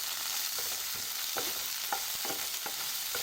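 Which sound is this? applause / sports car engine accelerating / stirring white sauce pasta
stirring white sauce pasta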